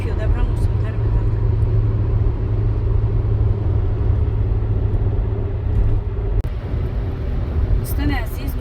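Steady loud rumble of a car cruising at highway speed, around 120 to 140 km/h, on a German road, with continuous road and engine drone throughout and a voice talking over it.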